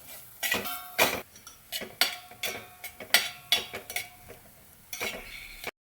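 Semolina roasting in ghee in a pan, scraped and stirred with a spatula in a series of close, uneven scrapes and clinks that stop abruptly at the end.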